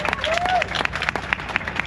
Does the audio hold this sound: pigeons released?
no